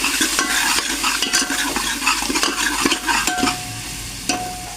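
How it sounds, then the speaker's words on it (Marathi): Kala masala and Suhana masala fry in hot oil for a quick rice dish, making a loud, constant sizzle with repeated scraping strokes of a spoon stirring in the pan. "काळा मसाला, नंतर टाकायचा सुहाना मसाला थोडासा आणि त्याला फ्राय करून घ्यायचं"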